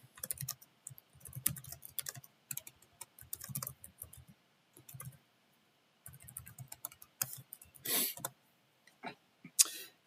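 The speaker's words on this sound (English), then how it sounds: "I was just typing something to Discord" Computer keyboard typing during play of Out of the Park Baseball 25, close and fairly quiet: irregular bursts of key clicks with short pauses and a few louder taps near the end, with no speech.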